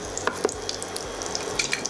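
Whole spices such as cinnamon bark crackle and sizzle as they hit hot oil for a Tamil country chicken salna, a bright steady frying hiss with small scattered pops.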